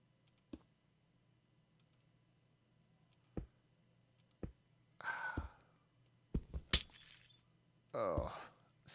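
Glass blocks breaking in Minecraft survival: scattered soft clicks and a few bright shattering crunches, mostly spaced apart, with brief voiced sounds near the end.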